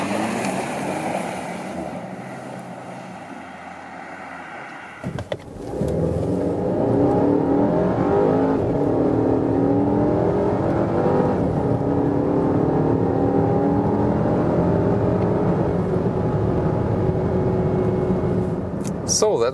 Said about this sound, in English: So that was the acceleration test here of the petrol engine.